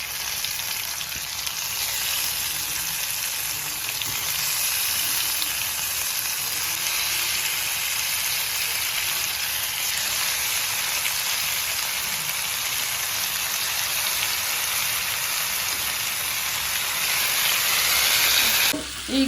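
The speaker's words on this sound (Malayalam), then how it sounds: "ഇത്തിരി നെയ്യും കൂടെ ഒഴിച്ചു കൊടുക്കാം. അപ്പം നമുക്ക് ഇതിൻ്റെ അകത്തോട്ട് വെച്ച് ഇതൊന്ന് ജസ്റ്റ് ഒന്ന് കുറച്ച് ഫ്രൈ ചെയ്തെടുക്കാം" Chicken fries in ghee in a pan for Afghani chicken, giving a steady, loud, close sizzle that runs unbroken for nearly twenty seconds, with a brief stir or clatter at the end.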